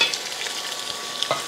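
Pork dropped into hot, already sizzling oil in a pan, a steady crackling fry with a few sharper pops, close and moderately loud with no talking.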